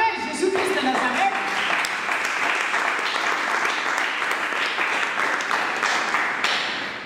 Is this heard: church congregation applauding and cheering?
yes